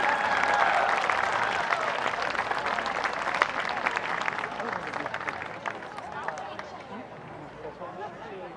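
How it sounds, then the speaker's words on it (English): Audience applause at an outdoor city band concert, a loud, sustained crowd clapping with scattered cheers and chatter mixed in, gradually thinning toward the end. "And one more round of applause, please, for the SMSU Daycare."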